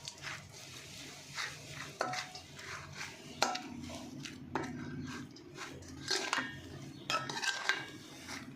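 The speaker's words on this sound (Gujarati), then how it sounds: "આ બધું જ આમાં સરસ રીતે મિક્સ કરી લઈશું।" A spoon clatters and scrapes against a pot while stirring turmeric, asafoetida, coriander-cumin and salt into eggplant and potato, giving a series of close, irregular metallic knocks over a quiet background.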